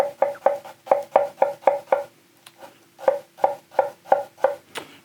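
A 215mm Ittetsu Tsuchime Kurouchi kiritsuke knife chops onion on a cutting board, with crisp evenly spaced thuds in two quick runs of about eight strokes each and a short pause between them, close and clear.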